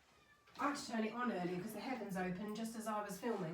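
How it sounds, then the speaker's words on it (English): A pet cat meows and cries indoors, its plaintive calls half buried under a woman's continuous chatter close by. "I don't know if you can hear her, but she's crying."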